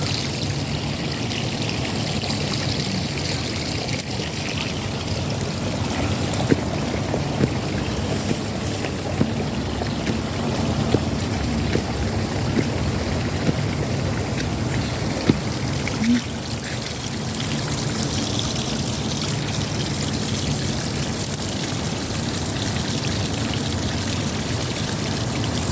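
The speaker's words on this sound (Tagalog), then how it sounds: "Dinadaanan ng tubig papunta dun sa baba." Water runs down a drainage channel beside outdoor stairs, a continuous trickling, pouring flow heard up close and steady for the whole stretch, with a few faint knocks and thin background noise.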